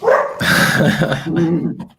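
A dog next door barks repeatedly in loud, close bursts through the wall, with yips and a brief whimper mixed in and overlapping voices.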